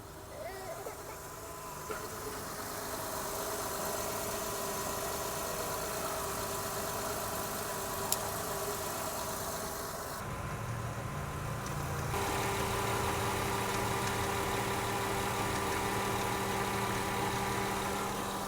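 A car engine runs at a steady idle after a jump-starter start, a continuous mid-level drone with a small shift in tone partway through and faint background noise.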